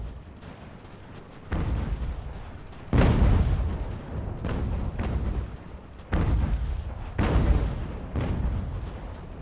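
Troops fire massed musket volleys in Ultimate General: American Revolution at New York, each volley a loud, booming burst followed by a rumbling decay, repeating about every second or two against a low battlefield din.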